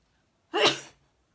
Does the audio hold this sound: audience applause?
no